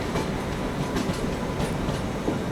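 Avadh Express, a Barauni–Bandra Terminus train, rumbling past close by with continuous rolling noise and wheel clatter on the track.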